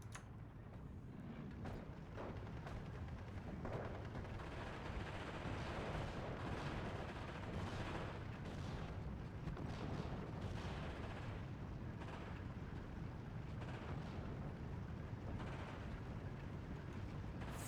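Mortar fire in the strategy video game Steel Division II, faint repeated booms and distant impacts scattered over a rumbling battlefield background.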